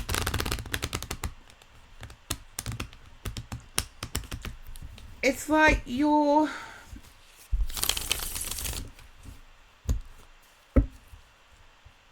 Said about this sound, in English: I'm going to shuffle the cards again